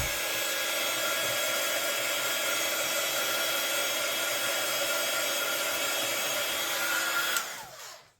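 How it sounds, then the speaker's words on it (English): Heat gun blasting card-making ink to dry it, a loud, steady close-up roaring hiss that runs unbroken for about seven seconds, then cuts off and winds down quickly. "I'm just going to give this a quick blast with the heat gun."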